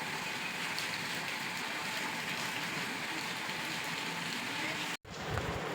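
Steady, unbroken rain falls outdoors, a soft, even hiss of drops with no distinct patter, holding at a low level before a momentary dropout near the end.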